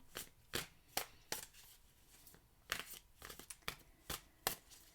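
Quiet, close riffle and snap of tarot cards being shuffled, a series of short crisp bursts at an irregular rhythm, no voices.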